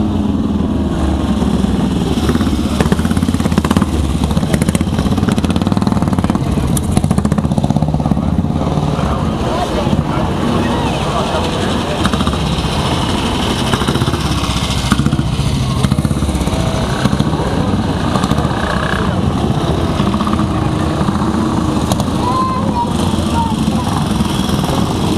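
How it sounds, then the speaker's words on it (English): A vintage exotic motorcycle runs at the Saltburn hillclimb in 2012, its engine a continuous rough drone with a raspy edge, close and loud throughout while someone talks over it. "Very exotic motorcycle in its day."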